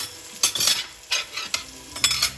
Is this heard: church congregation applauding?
no